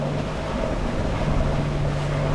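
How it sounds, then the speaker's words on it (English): Offshore sailing in about 20 knots of wind: a steady, close roar of wind and rushing water with a low engine-like hum underneath, continuous and unbroken. "20 knots of wind."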